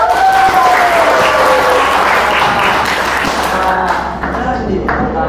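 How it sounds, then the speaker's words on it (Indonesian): Classroom applause for a student called up to present, a burst of clapping from the class under a sustained tonal hum, fading slightly near the end. "Kasih tepuk tangan dulu"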